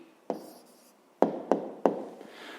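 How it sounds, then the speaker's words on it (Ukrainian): A pen writing an answer to a fifth-grade maths exercise, heard as a few short scratchy strokes with small taps between them, close and fairly quiet, with no voice. "Давайте я запишу тут. Відповідь."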